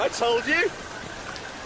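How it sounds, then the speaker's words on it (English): Artificial rain falling from a cloud made by engine exhaust, a soft steady patter heard after an excited voice shouts briefly at the start. "It's raining!"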